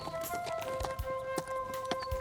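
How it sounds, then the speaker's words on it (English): Horse hooves clip-clopping as a rider approaches, a run of uneven hoof thuds over a steady tonal music bed, moderately close. "He borrows a horse and rides up to find Ollie."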